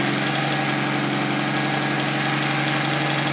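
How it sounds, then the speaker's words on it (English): A 1964 Pontiac Tempest inline six idles steadily after a carburetor change, a close, continuous low rumble with an even pulsing beat and no voices. "Alright, so we got it started at long last."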